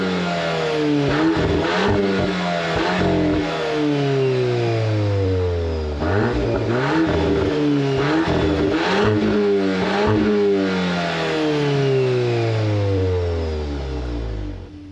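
A 2022 Volkswagen Golf R with six-speed manual fires up and revs repeatedly, its engine note climbing and falling in loud, close sweeps through the exhaust, with no talking over it.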